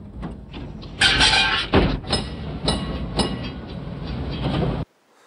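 A tram rattles and clanks along with rhythmic clickety-clack bursts and metallic screeches, ending abruptly in near silence.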